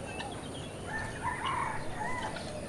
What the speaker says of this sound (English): Like this yellow golden pheasant.